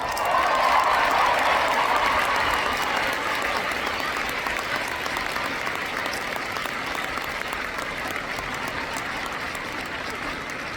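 Audience at a University of Cincinnati graduation ceremony applauding, loud dense clapping from a large crowd that holds steady for about ten seconds and slowly eases off without stopping.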